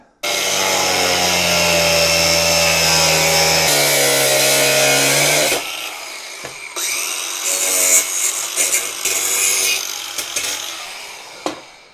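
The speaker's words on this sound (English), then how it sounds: "Still gonna cut the end off just to give it a nice clean edge." A power saw cuts the end off a cheap aftermarket muffler pipe for a Honda CT90, a loud, steady, high-pitched metal whine for several seconds, then lighter scraping and rattling handling noises close by.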